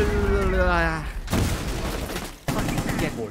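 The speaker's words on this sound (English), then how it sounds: "a few explosions are happening" Rapid gunfire and explosions in a competitive esports video game match, dense and continuous with crackling bursts and booms, heard alongside game audio and commentary.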